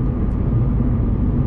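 A Ford Mustang GT fitted with a Corsa Xtreme cat-back exhaust drones loudly while driving, a deep, steady rumble heard from inside the car with no break.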